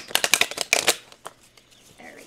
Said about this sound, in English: Shuffle them up a little bit here.